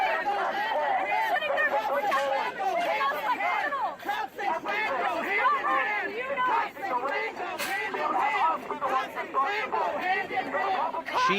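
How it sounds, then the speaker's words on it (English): A crowd of protesters outside the White House shouts loudly, many raised voices overlapping in a continuous heated clamor close by, with brief dips between bursts. "Some of these protesters here are now yelling."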